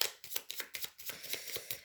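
Playing cards laid down one over another during a French tarot-style card reading, giving a string of soft, quick papery slaps and slides in steady succession, close and fairly quiet.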